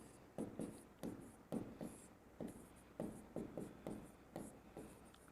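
Pen writing notes on a board or paper during a general science lesson on motion, heard as a steady series of short scratching strokes in irregular bursts, close and fairly quiet with no talk.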